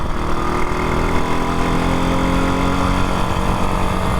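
Original Moto Guzzi Stornello motorcycle running, a loud, steady single-cylinder engine drone with an even mechanical throb throughout.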